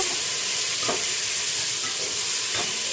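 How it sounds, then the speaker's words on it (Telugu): Onion and tomato frying in a pan for mutton sambar, a constant loud sizzle with two spatula strokes scraping through. "టమోటో వేసుకున్న తర్వాత 2 మినిట్స్ అలాగే వేయించుకుందాం"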